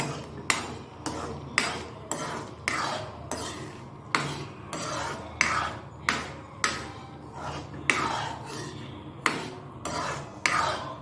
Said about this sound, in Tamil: ஏலக்காய் சேர்த்து கிண்டி விடுங்க